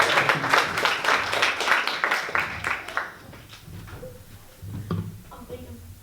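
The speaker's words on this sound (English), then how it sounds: "Round of applause for this guy." A crowd at a live recorder comedy-music show applauds briefly with scattered clapping that fades after about three seconds, leaving lighter sounds and someone talking.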